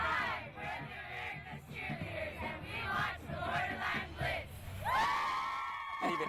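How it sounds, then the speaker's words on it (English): A crowd of cheerleaders yells and cheers at a high school football game, with loud overlapping shouts and a rising, sustained cheer toward the end. "that's actually the America's cheerleaders last night"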